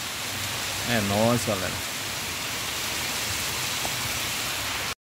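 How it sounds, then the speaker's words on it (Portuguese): Light afternoon rain in Acopiara, Ceará falls as a soft, even hiss of drops with runoff trickling underneath, close and steady throughout, while someone speaks briefly near the start. "Quinta-feira com a chuvinha boa na nossa Acopiara."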